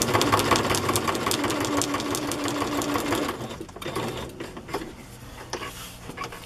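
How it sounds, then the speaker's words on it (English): A sewing machine stitches through a journal page with a near, rapid mechanical rattle for about three seconds, then slows into softer, intermittent stitching with small clicks. "Well, I guess it's still sewing."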